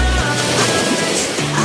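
Sea waves along a deep-blue coastline, a loud continuous rushing wash with low engine-like hum underneath, heard close and without speech.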